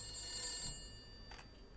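A telephone in a video game rings with bright electronic tones, one sustained ring followed by a short second burst, clear and close with no talk.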